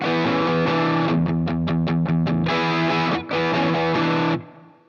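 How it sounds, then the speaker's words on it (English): Electric guitar with heavy distortion plays a riff: loud sustained power chords, a burst of short choppy stabs in the middle, then ringing chords before a sudden cut to silence. "Make sure to crank up the distortion and have a good time playing it along with the recording."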